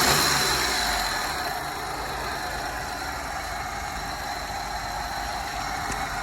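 A Daewoo Matiz car engine idles with a steady mid-pitched hum, a little louder at first and then settling into an even drone, with no talking.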